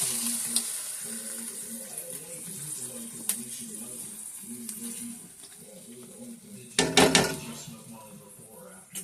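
Pasta sauce for stuffed shells on the lowest flame, a soft continuous sizzle and bubbling with a low hum, followed by a brief burst of clattering utensil or pot noise near the end.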